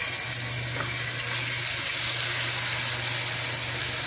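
Marinated chicken frying in hot oil in a frying pan, giving a steady, close, continuous sizzle with a faint low hum underneath and no talking.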